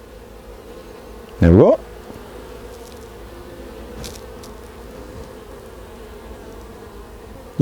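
Honey bees hum in a steady, moderate drone around a hive entrance, with a short spoken remark cutting in briefly early on.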